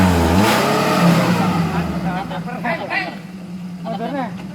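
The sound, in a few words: 4x4 offroad car engine revving on obstacle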